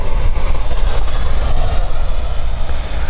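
A Freewing Eurofighter Typhoon 90mm electric ducted-fan RC jet runs at half throttle with a loud, steady, close whooshing roar and a deep rumble underneath, holding constant throughout.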